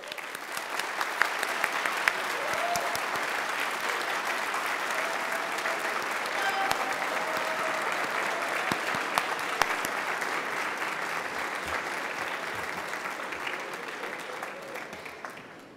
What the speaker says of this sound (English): join me and your faculty and staff in giving a round of applause for your friends, family, partners